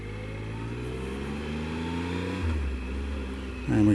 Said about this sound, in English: Vehicle coming from the left.